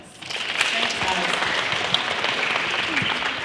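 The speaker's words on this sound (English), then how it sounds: "Please welcome her with a round of applause" A school auditorium audience breaks into steady applause for a visiting author, many hands clapping at once in a dense, sustained wash that starts abruptly and holds throughout.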